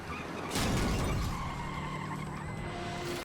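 A cartoon car brakes hard in Ben 10, a sudden loud tire skid and screech that bursts in after half a second and trails off into a lingering squeal over a few seconds.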